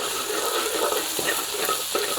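Steady, close sizzling of chilies frying in hot oil in a pan, a dense crackling hiss with faint occasional scrapes of stirring.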